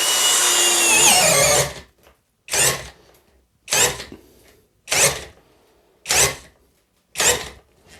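GTM DS12/38BL cordless drill on first speed driving a 32 mm bit, one long straining run followed by five short bursts with pauses between, close and loud.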